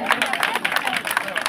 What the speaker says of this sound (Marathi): आदर्श रहिवासी संघटना यांच्याकडे एकदा जोरदार टाळ्या वाजूया.